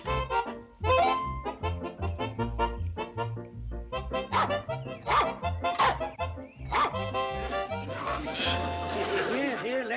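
A small, persistent dog barks and yips repeatedly in a rural sitcom scene, mixed with voices and background music throughout.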